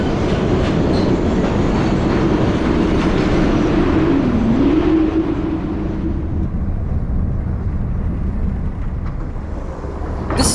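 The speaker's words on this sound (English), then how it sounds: "This is South Station where I'll board the first Amtrak train" An Amtrak train at Boston's South Station, heard as a steady, loud rumble of rolling railcars with clickety-clack and a faint squeal, fading slightly near the end.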